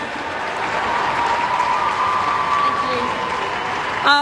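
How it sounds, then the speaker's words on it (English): A crowd at the AFLW Grand Final ceremony between Adelaide and Brisbane applauds the premiership captain, a short burst of loud, dense clapping with a faint sustained tone running underneath. "Let's hear a round of applause for the Premiership captain, Emma."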